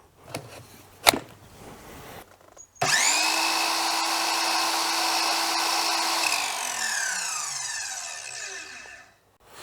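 An Einhell TE-SM 36/210 Li cordless mitre saw running on 4 Ah batteries: a few soft clicks, then the motor switches on with a loud, steady whine for several seconds before gradually winding down.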